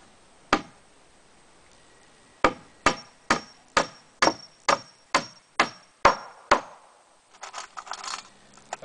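Sharp hammer blows driving nails through knotty pallet wood, one strike then a steady run of about nine evenly spaced hits, ending in a cluster of lighter taps and rattles.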